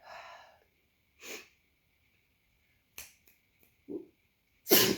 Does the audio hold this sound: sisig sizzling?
no